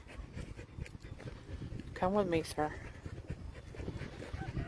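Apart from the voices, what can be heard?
ranch dog panting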